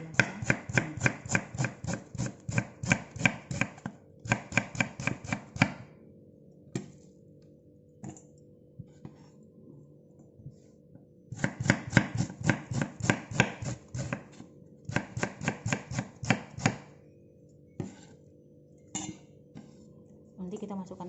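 Rapid, rhythmic knife chops slicing dory fish on a cutting board in bursts, with pauses of quieter background between runs.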